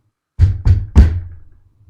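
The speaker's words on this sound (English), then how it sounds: "Percy, you hear a knock at the door." Three firm knocks on a door sound in quick succession, close and loud, each a hollow thud with a short decay, followed by quiet.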